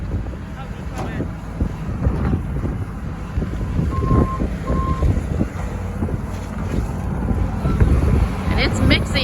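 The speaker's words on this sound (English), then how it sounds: "when a skid loader backs up, it beeps" Two short reversing beeps from a skid loader on a cattle farm sound at mid-distance over steady wind noise and machinery rumble, with faint voices in the background.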